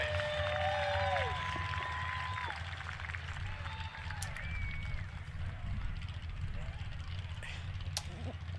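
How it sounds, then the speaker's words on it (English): Crowd applause at a qualifying event, a steady wash of clapping and murmuring voices continuing for several seconds, moderately distant with whistles or shouts early on. "give him a round of applause for sticking to it"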